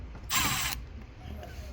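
A short ratcheting burst from a tool backing out side screws behind a dashboard panel of a 2001-2005 Honda Civic, near and fairly loud, about half a second of rapid clicking over a quiet workshop background.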